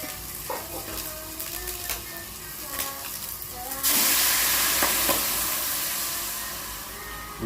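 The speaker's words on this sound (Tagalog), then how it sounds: "Lagyan na natin yung munggo." Mung beans tipped into a cooking pot already holding okra, malabar spinach, jute leaves and moringa, with scattered clinks and stirring, then a sudden loud sizzle and hiss that fades slowly.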